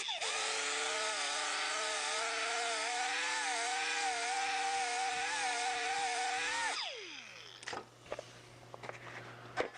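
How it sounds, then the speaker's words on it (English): A small 2-inch hook-and-loop orbital detail sander whirs loudly and steadily with a wavering pitch, then spins down and stops, leaving faint clicks and handling noises in a workshop. "This is the hook and loop little 2-inch detail sander,"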